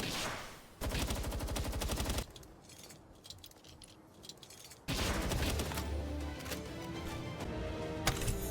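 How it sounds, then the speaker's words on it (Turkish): Sustained machine gun fire in the video game Palworld, a dense, steady rattle that drops back briefly in the middle and then resumes just as loud. "Şuradaki makineli tüfekler çok fazla hasar vermiyor."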